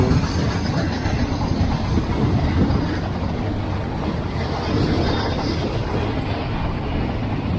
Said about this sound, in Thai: มีรถไฟผ่าน